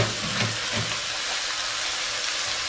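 Calabresa sausage and beans sizzle in a 5-litre pot while being stirred, a continuous close frying hiss with faint scraping, no talking.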